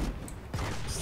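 Gunfire in the video game PlanetSide 2, a short burst of shots over a busy, dense game mix, with a louder shot near the middle.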